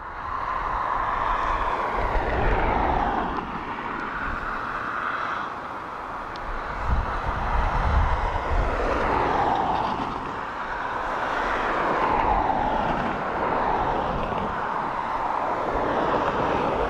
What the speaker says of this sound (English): Turkish Airlines heading off to Istanbul